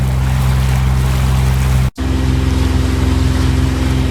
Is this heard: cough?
no